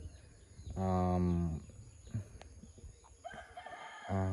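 At a chicken coop a nearby rooster gives one loud, drawn-out crow, then chickens cluck and rustle, and a second crow starts at the end.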